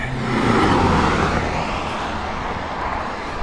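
A car passes along a busy road on Copper Lane in Cornwall at teatime, a loud broadband whoosh that swells early and then settles into a steady roar of traffic, with no voices.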